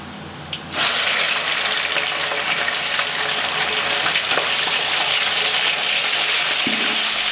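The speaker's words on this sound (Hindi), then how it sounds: "चिकन को अच्छे तरीके से फ्राई करेंगे।" Chicken pieces frying in hot oil with ginger and garlic for a restaurant-style dish, a loud sudden sizzle bursting in after a brief quiet start and continuing as a dense, steady hiss; no voices.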